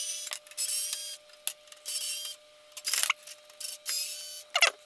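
A cordless screwdriver whirring in short bursts while backing out fan screws on a water cooler, several brief motor runs separated by pauses and small clicks, close and fairly quiet.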